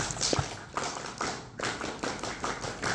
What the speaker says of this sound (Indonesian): mari kita buka acara ini dengan tepuk pramuka